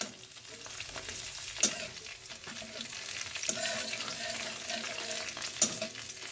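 Garlic and onion bulbs sizzle in hot oil in a home kitchen while being stirred, a soft continuous frying hiss broken by three sharp scrapes or clinks of the spoon against the pan.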